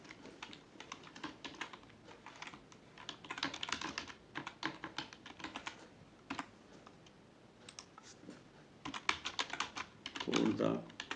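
Typing on a computer keyboard while working in Microsoft Word, rapid irregular bursts of close, crisp key clicks with short pauses between runs.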